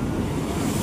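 Waves at the Nagarjuna Sagar dam roll in a steady, close rushing wash, mixed with wind buffeting the microphone.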